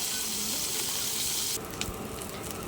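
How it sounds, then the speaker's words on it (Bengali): Small chapila fish fry in hot oil in a pan, giving a steady, close hiss of sizzling that drops slightly in level halfway through, with a couple of light clicks. "এবার সবগুলো মাছ আমি ভেজে নেব।"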